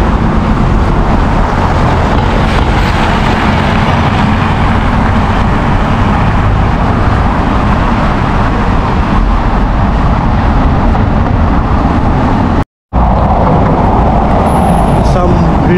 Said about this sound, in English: looking at the cars which are passing here